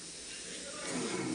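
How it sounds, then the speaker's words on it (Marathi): Spices crackle and hiss as they hit hot oil for a Marathi-style tadka, a steady broadband sizzle that swells louder toward the end, heard alone and close. "फोडणी देते"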